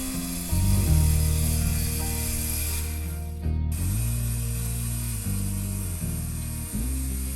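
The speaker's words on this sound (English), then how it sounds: "Even a sharp curve like this is easy to cut with a powerful saw and a sharp 7 1/4 inch blade" A loud circular saw with a sharp 7 1/4 inch blade whines steadily as it cuts a sharp curve in wood, with its pitch dipping and recovering several times under load.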